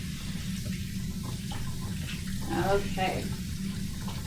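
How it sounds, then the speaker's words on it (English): Tap water runs steadily from a kitchen faucet as hands are rinsed, a continuous broadband hiss with a brief louder splash midway, while someone speaks over it. "so we're just rinsing, and now I can dry my hands"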